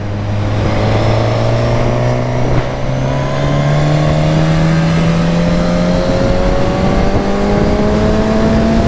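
A Suzuki GSX-S 1000 motorcycle engine under way on the road, pulling loud and close with a smoothly rising pitch as it accelerates through the gears, with wind noise underneath.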